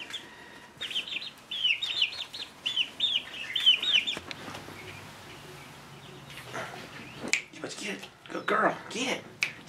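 Young chickens in a small indoor box cheeping and clucking in quick high chirps, close up, with a person talking over them and handling noises.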